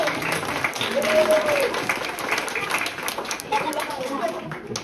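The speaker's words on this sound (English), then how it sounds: "can we all give our volunteer a big round of applause?" Steady applause from an audience at a neuroscience magic show fills the room, a dense wash of clapping that holds for several seconds with a voice briefly rising above it.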